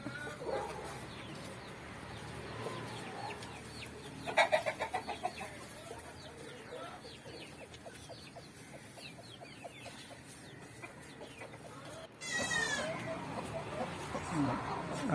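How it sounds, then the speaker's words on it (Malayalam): A crested hen clucks softly in short bursts amid faint background birdsong and low farmyard ambience. "ഇതൊരു തൊപ്പിക്കോഴിയാണ്."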